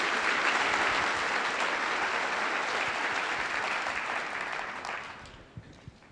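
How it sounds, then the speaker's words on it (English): Sustained audience applause at a Java community keynote, a dense wash of clapping from a large crowd that holds steady and then tapers off toward the end with a few scattered last claps. "big round of applause for our virtual jug members"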